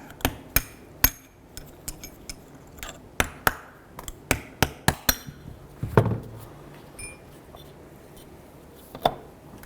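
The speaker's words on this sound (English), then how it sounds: "we're going to start by popping off the end cap. You can use a chisel or a punch." A punch or chisel hammered against the end cap of a rear CV joint on a 2002-2007 Jeep Liberty, a series of sharp metallic strikes in uneven bursts, loud and close, with a scraping clank between and one last tap after a pause.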